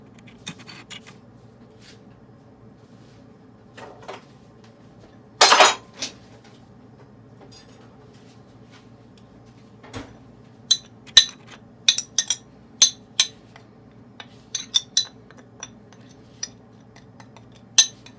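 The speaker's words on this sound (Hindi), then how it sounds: "अब इन तमाम मसालों को मिक्स करेंगे।" A spoon clinking and scraping against a bowl while spices are mixed for baked tortilla chips, with sharp intermittent taps in short bursts and a faint steady background hum.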